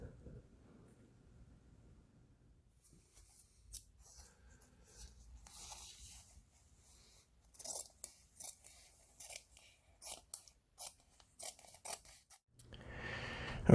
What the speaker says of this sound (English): And then cutting off all the excess material.